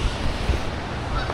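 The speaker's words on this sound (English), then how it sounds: "And then there's honking geese up there." Canada geese honking near the Reedy River, a few short, muffled honks over steady outdoor noise, fairly distant and unaccompanied by talk.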